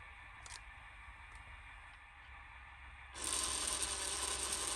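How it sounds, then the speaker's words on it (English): A DCC Concepts Cobalt IP Digital point motor throws a model railway turnout: a low mechanical hum and faint clicks, then a sudden louder steady whirring buzz that continues to the end, with no voices. "There's a slight delay between you pressing the button and the motor actually operating"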